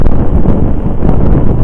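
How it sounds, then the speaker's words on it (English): Strong wind buffets the microphone outdoors, a loud continuous low rumble with gusting roar that fills the whole stretch, no voices over it. "it's really windy where I'm at right now"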